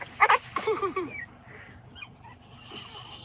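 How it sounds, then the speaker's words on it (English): A puppy gives a quick burst of close, sharp yips and barks, then trails into softer whimpers over a faint room background. "there's Linda's puppy"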